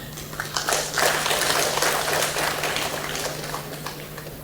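Political rally crowd applauding during a speech by a CPN-UML leader, a sustained wash of many hands clapping at steady loudness for several seconds, with no talking over it.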